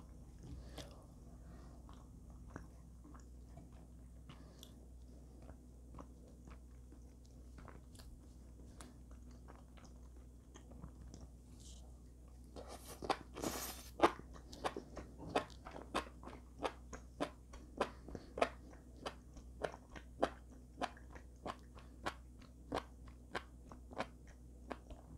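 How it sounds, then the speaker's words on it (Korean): Close, crunchy bites and chewing during a Korean mukbang meal of soft rice, zucchini, eggplant, enoki mushrooms, tofu and radish-green soup, quiet and sparse at first, then a run of crisp, regular crunches. "씹으면서"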